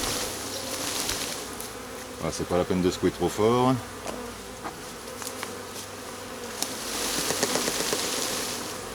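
A dense, steady buzz of a honeybee swarm being collected into a bucket hums throughout, with a person speaking briefly partway through and some nearby handling noises.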